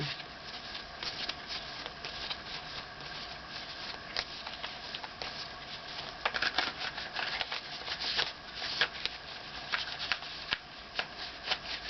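Tarot cards are riffled and shuffled steadily, a dense papery flutter with sharper snaps now and then, close up and continuous with no talking.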